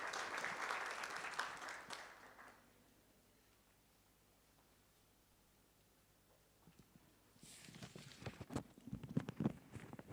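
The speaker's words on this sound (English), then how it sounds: "A round of applause as she comes to" An indoor audience at a municipal annual general meeting claps as the mayor approaches the podium. A burst of applause fades into quiet, then a second round of clapping swells up.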